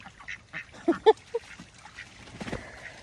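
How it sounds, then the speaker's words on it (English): Fighting ducks quack and squabble close by in a series of sharp, irregular honking calls, some overlapping in bursts. "I've got some fighting ducks over here."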